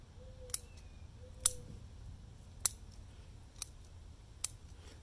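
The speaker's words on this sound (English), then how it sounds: "Make sure you have nice sharp scissors to cut the roots with." Five sharp, crisp snips of bonsai scissors cutting azalea roots, spaced about a second apart, close and isolated against a quiet background.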